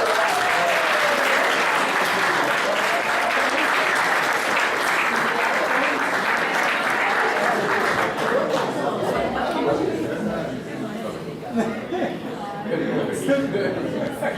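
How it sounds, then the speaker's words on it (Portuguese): Audience applause for the women in the crowd, loud sustained clapping with chatter and some laughter, thinning out toward the end as voices take over. "Dá uma salva de palmas para as mulheres."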